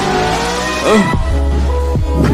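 A car on a road, passing the spot where someone tries to wave it down: a loud, steady engine drone with a short rising and falling tonal sweep, and no talking.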